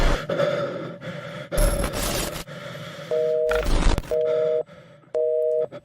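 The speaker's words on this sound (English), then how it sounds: "It just sounds like a whole bunch of breathing." Muffled breathing and gasps come through a phone line from a caller to a live radio show, broken up by repeated electronic beeping tones and bursts of crackly noise.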